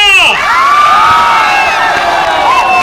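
A large young crowd at a lively Patna stage event cheers loudly, with shrill shouts and whoops forming a dense, sustained roar throughout.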